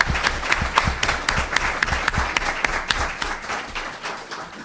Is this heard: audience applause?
yes